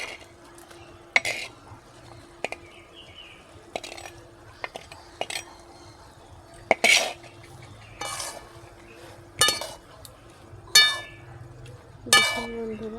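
Fried pointed gourds are stirred into a cooked masala for a yogurt-based Bengali curry, with scattered metallic clinks and scrapes of a spoon against the pan over a quiet background; there is no clear talking.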